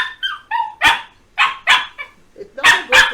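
A dog barks close by in a quick run of sharp barks and high yips, some notes drawn out toward a whimper, with brief pauses between bursts.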